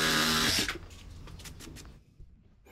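A Dewalt DCS367B cordless reciprocating saw cuts solid hardwood, running loudly for about half a second before stopping, followed by quiet clicks and handling noise.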